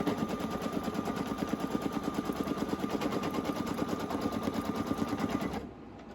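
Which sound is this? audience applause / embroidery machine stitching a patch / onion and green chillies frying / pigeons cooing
embroidery machine stitching a patch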